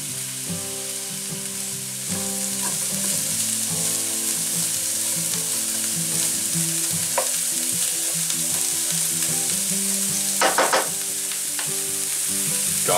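Chopped onions frying in olive oil in a paella pan for a Spanish rice and king prawn paella, a steady close sizzle that swells louder after a couple of seconds, with occasional stirring clinks and scrapes and no talking.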